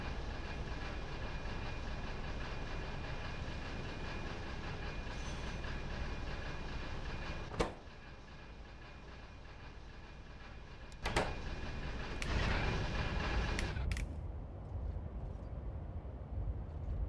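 Train rumbling along steadily in Factorio with the Pyanodon's Hard Mode mod, a continuous mid-level roll with a few sharp clacks and brief bursts of noise near the end, no talk over it.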